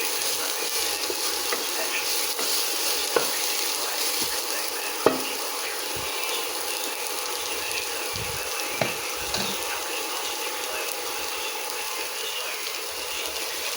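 Pork and chicken for adobo fry in a pan with a steady, close sizzle, broken by a few soft scrapes and knocks of stirring.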